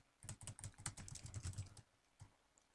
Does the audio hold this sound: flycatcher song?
no